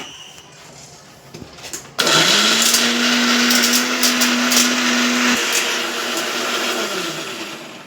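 A kitchen mixer grinder switches on and grinds peanuts, green chili and coriander, a loud steady motor whine with rattling contents that runs for several seconds, then slowly eases, after a quiet room moment with small clicks.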